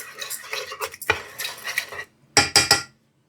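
A spoon stirs water with a pinch of Ajinomoto MSG and a teaspoon of oyster sauce, giving close, quick clinking and scraping against the bowl, a brief pause, then three sharp taps.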